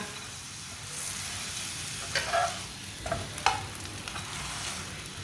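Radish paratha cooks in oil on a pan with a continuous soft sizzle, broken by a few light scraping and clinking sounds as it is turned and moved about.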